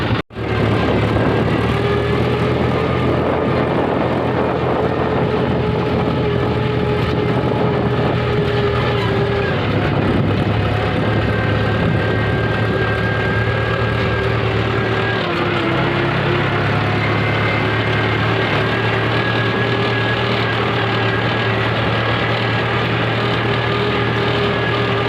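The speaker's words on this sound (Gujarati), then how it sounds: "તો ફાઇનલી મિત્રો આપણે ટ્રેક્ટરમાં ચડી ગયા છીએ" A tractor engine runs in a farm field with the listener riding aboard, a loud, steady drone with a low throb that shifts pitch slightly as it works, and a voice talks briefly over it.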